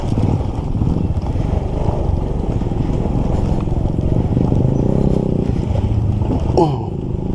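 Outboard motor of a small boat running steadily on a trip to Barangay Diampak, a loud continuous drone with water and wind noise throughout and a brief change near the end.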